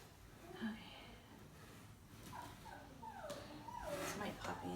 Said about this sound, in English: It's my puppy in the background crying.